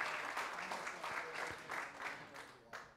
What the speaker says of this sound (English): another round of applause for that combo